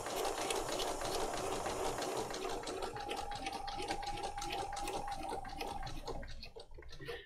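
A sewing machine stitches around lace on an altered little golden book, its needle chattering in a fast, steady rhythm close by for several seconds before slowing and stopping near the end; no talking.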